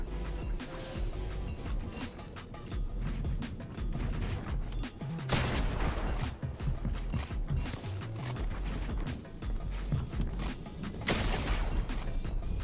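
Combat SMG fire in the Halo Infinite first-person shooter, coming in rapid bursts through a busy wash of game combat noise, with louder surges at intervals and no voices.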